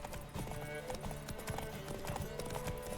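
Hoofbeats of the horse Roach galloping in The Witcher 3 race, a fast continuous clip-clop rhythm, loud and close, with a voice talking over it.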